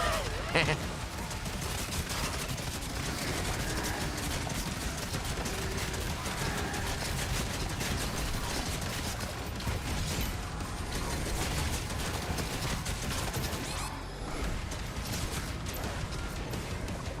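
Gunfire from a weapon in the video game DOOM: The Dark Ages, a continuous dense mechanical rattle of rapid shots that runs unbroken throughout, loud and close, mixed with game sounds.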